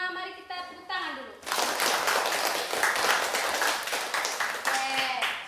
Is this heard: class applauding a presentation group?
yes